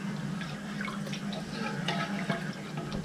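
A small Lodge scraper works over a cast iron skillet sitting in warm water, producing soft wet scraping and sloshing under a steady watery wash, close and moderately quiet.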